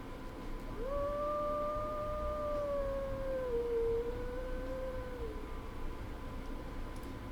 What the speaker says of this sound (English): Listen to his howls.